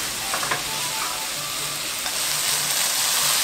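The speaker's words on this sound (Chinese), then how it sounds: "九层塔就可以放进来。 一样都大火快炒，" King oyster mushroom and Thai basil stir-fried over high heat in a sauce nearly cooked down, giving a steady loud sizzle with light scraping and stirring clicks from the pan, no voices.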